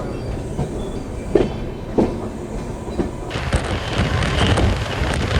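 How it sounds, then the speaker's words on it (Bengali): Sealdah Humsafar Express train rolling out of Bareilly Junction, a steady rumbling run with wheel clicks and a few sharper clanks, heard from inside with wind noise rising toward the end. "বারেলি জাংশন রেলওয়ে স্টেশন থেকে আমাদের ট্রেন ছেড়ে দিয়েছে"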